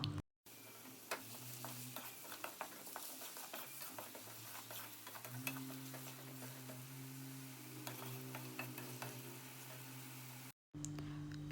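Chopped onions sauté in a pan while being mixed for a crab masala, giving a faint, low sizzle with light scraping and ticking of a spoon stirring at an uneven rhythm.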